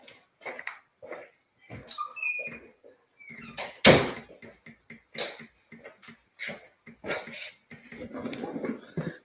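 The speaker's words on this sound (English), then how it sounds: "Hold on, let me shut this door." An indoor house door is shut, giving one sharp thump midway through, with people talking before and after it.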